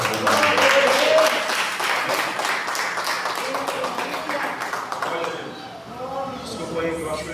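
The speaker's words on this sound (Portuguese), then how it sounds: "E quem pode aplaudir bem forte." A church congregation applauds loudly after a pastor's closing blessing, dense continuous clapping that holds strong for several seconds and then thins and fades, with voices audible over it.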